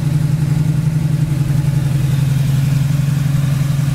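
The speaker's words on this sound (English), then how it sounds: "Powered by a built 350 with headers, it sounds excellent." A 1982 Oldsmobile Cutlass with a built 350 V8, headers and an Edelbrock four-barrel carburetor idles steadily with a loud, deep, even rumble, heard close and without any talk.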